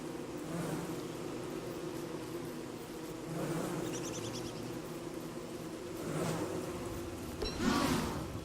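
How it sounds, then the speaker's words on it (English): Killer bees buzzing in Don't Starve Together, a steady insect drone with swells of nearer, louder buzzing around three, six and near eight seconds, heard alone. "still killing killer bees for me"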